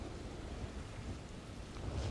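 Rain and thunder in the video game Planet Coaster 2, a dense, steady wash of rainfall with a low rolling rumble underneath, swelling slightly toward the end.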